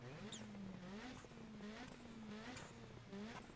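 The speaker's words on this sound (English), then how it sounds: "So the second thing is the engine. Give it some revs." Polo Rallycross car in the racing game Dirt 4, its turbocharged engine revved repeatedly in quick rising and falling bursts, with high whooshing and whistling sounds between revs.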